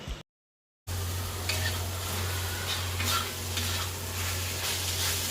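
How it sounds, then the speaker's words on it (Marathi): Dried fish (sukat) with fresh coriander and homemade masala being sautéed in a pan at home, a steady close sizzle with stirring scrapes running throughout after a brief silent gap at the start. "त्यामध्ये कोथिंबीर आणि घरचा मसाला ॲड करून परतून घेऊया."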